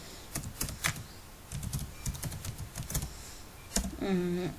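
Rapid clicking keystrokes on a computer keyboard come in short irregular bursts, close and fairly loud, with a brief pause between clusters.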